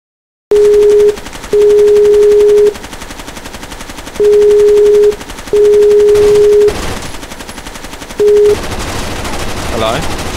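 Gunfire in the video game Rainbow Six: Las Vegas 2, Terrorist Hunt on the Streets map, comes as loud sustained automatic bursts of varying length with short gaps between, over a constant game background bed.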